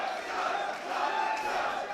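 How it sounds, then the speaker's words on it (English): A wrestling crowd at a DEFY Wrestling match cheers and roars for Robbie Eagles, a continuous wall of voices that swells slightly and holds steady across the moment. "Nice reaction for Robbie Eagles in the crowd, responding in kind here for Cody Chhun."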